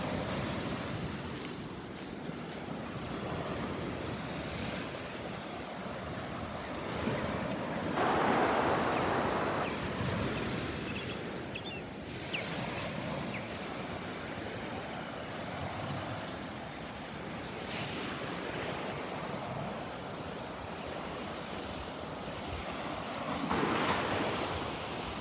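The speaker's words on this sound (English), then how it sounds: "Nice little waves rolling in right here." Small waves roll onto Barefoot Beach in North Naples, Florida, a steady wash of surf that swells and breaks every few seconds, mixed with wind buffeting the microphone and no talking.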